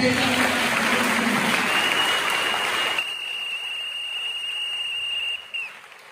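A church congregation applauds during a Sunday service. The clapping is dense and steady for about three seconds, then thins out, with a sustained whistle-like tone running across it.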